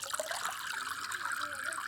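Shower water runs and splashes steadily while a dirty toy is being washed, a soft continuous hiss of spray heard alone at low level.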